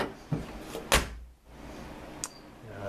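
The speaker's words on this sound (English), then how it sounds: "This door handle's busted, but I mean, it still works." The broken door handle of a 1981 Honda Civic Wagon is worked, giving a couple of faint clicks and a sharper latch clunk, then another small click, all fairly close and quiet.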